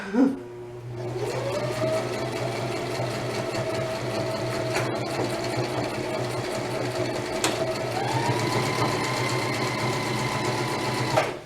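A sewing machine drives a seam through a tote bag, a near, continuous motor whir that shifts pitch a couple of times as the stitching speed changes, with faint clicks over it.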